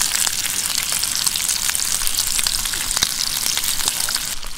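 Onions fry loudly in leftover burger oil in a pan on a gas camping stove outdoors, giving a dense, continuous crackling sizzle with sharp pops throughout and no talking.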